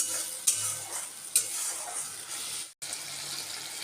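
Egg curry masala being stirred and fried in oil in a pan, a steady close sizzle with scraping spoon strokes and a couple of sharper knocks, no talking.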